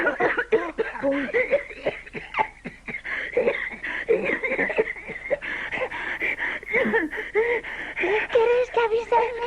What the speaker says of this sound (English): Hani then starts to cough his entire lungs out